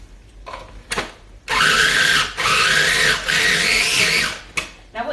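Dates and tahini for no-bake fruit and nut bars whiz in a blender, a loud close grinding whir in two long bursts with brief pauses, after a few short knocks at the start.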